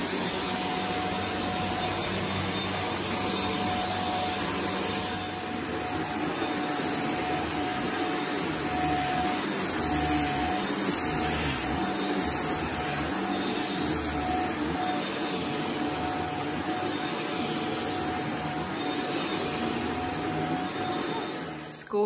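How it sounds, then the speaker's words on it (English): A household vacuum cleaner hoovers indoors, a constant loud whining drone with a steady motor hum, shifting slightly in tone as it moves about, with no talking. "So we've nearly finished hoovering, but not quite."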